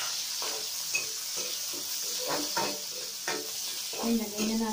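Onions hitting hot oil in a frying pan for squid adobo, a loud continuous sizzle close by with stirring scrapes, and a brief voice near the end.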